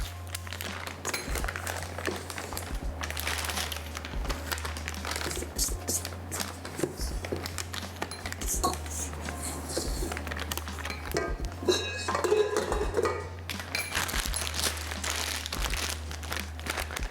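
Cream cheese icing is scooped into a plastic piping bag fitted with a round nozzle, giving a steady, soft crinkling and rustling of the bag with faint squishy handling noises throughout.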